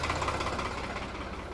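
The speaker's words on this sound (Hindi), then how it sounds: "किसान हैं, ट्रैक्टर लेकर निकल रहे हैं खेतों की ओर" A farmer's tractor engine chugs close by in a steady, rumbling rhythm during a short burst with no talking.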